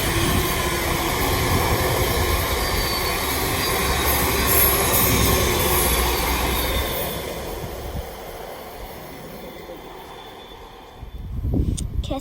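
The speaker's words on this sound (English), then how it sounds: "I think there's a whole train's coming." A train passes at Harringay, a loud, sustained rumble and rattle of wheels and wagons close by that gradually fades as it moves away, followed by a brief burst of noise at the end.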